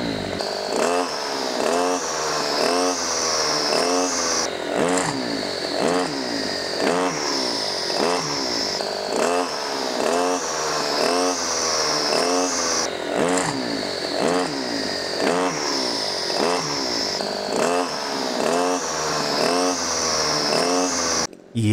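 A brush cutter's small two-stroke engine, running on fuel treated with the FCR-062 additive, revs up and down again and again in a steady cycle of buzzing bursts. It is loud and close, with no talk over it.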